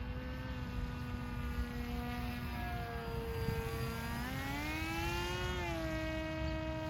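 Small RC Versa Wing foam flying wing on a 3S battery with a 9x4.5 propeller, flying slowly at night over a golf course; a steady buzzing prop whine that rises and falls in pitch as it maneuvers, fairly close and continuous.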